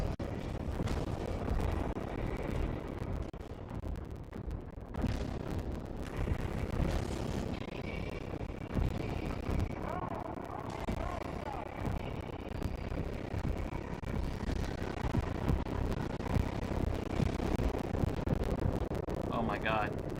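Explosions in Helldivers 2 sound as crunchy, distorted blasts and rumbling booms scattered through heavy, continuous battle noise, with a voice talking over parts of it.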